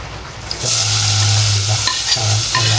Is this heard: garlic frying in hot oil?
yes